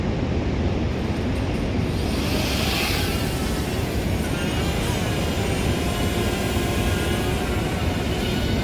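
Snowmobiles riding across the Langjökull glacier produce a loud, continuous engine roar and wind rush that stays steady from start to finish, with no pauses.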